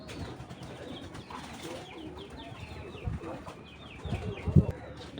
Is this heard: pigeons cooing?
yes